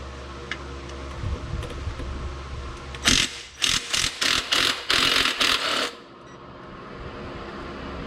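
A hand ratchet turns 15 mm bolts on a 4L60E transmission under a Chevrolet or GMC 4x4 Trailblazer or Envoy. The sound is a burst of crisp, close clicking in about six quick strokes, followed by quiet.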